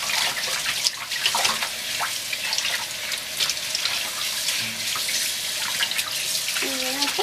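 A kitchen tap runs steadily while pork spare ribs are rubbed and rinsed under it. The water makes a loud, continuous hiss and splatter throughout, with a voice faintly heard underneath.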